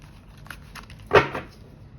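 A single quick riffle of shuffled tarot cards, a short crisp burst against an otherwise quiet room.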